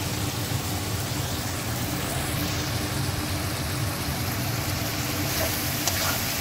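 Ghee and garam masala spices sizzling in a pan, a steady, close, broadband frying hiss that holds evenly for several seconds without talk.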